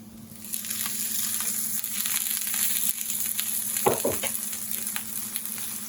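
Sausage and translucent onions frying in a pan for a potato, mushroom and spinach frittata, a loud, continuous close sizzle with a few sharp scraping knocks near the middle.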